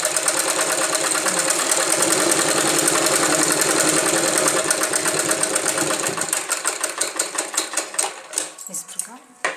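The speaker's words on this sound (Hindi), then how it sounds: "फिर यहाँ पर फिटिंग करते हुए ऐसे सिलाई लगा देते हैं।" A sewing machine stitching a net jacket blouse, running in a fast, steady mechanical whir close by, then slowing into separate rhythmic stitch thumps before stopping.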